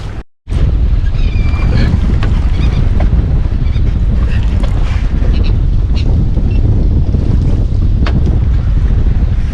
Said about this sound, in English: You can hear the trolling motor in the background just working